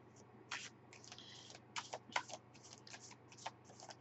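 Angel cards shuffled by hand for a tarot-style reading: a quick run of crisp riffling bursts and flicks, close and fairly quiet, alone without talk over a faint steady hum.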